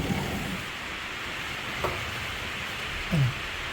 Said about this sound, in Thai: ผมได้ยินเสียงฝนนะครับ